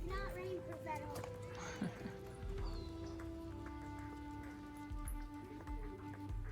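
Heavy rain drums steadily on a leaky, far-from-rainproof campground shelter roof in Camp Verde, Arizona, with faint voices and someone talking underneath throughout.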